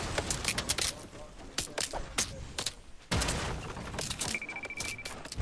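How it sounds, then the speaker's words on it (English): Fortnite gunfire crackles at a fairly low level: repeated sharp shots and clattering impacts come in uneven bursts, then a denser barrage follows, mixed with faint game noise and occasional voices. "You're getting shot at."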